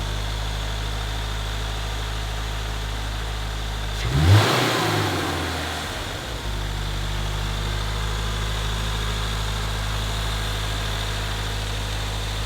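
A 2022 Subaru WRX fitted with an ETS cold air intake runs with a steady, close engine drone. A short surge and rumble swells around the four-second mark, then the even hum carries on.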